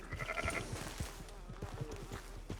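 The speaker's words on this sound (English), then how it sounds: "Sheep, sheep, sheep." Several sheep in the RedM (Red Dead) video game bleat in short repeated calls over a yard's ambient background, fairly close and moderately loud, with no talking.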